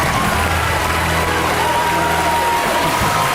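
An audience at École Centrale de Nantes claps warmly through a short stretch, the applause steady and close, with voices mixed faintly underneath.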